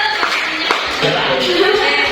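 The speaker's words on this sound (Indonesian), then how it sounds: "tepuk tangan untuk kelompok 1" Students in a classroom applaud the first group after its presentation, a dense, steady patter of many hands clapping at close range for about two seconds, with voices chattering underneath.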